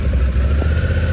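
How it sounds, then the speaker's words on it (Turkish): A Honda NT1100 motorcycle's exhaust rumbles steadily at close range, a deep low-pitched engine note with a slight rev, no talk over it. "İşte NT1100'ü tarif et desen tek kelime egzoz sesi derim abi."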